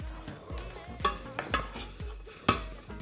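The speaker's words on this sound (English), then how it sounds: "Stir until the butter has melted and then turn down to a simmer." Apple pie filling with butter, brown sugar, cinnamon, nutmeg and salt stirred in a pan, a spoon scraping in a steady rhythm of repeated strokes over a soft sizzle, close and fairly quiet.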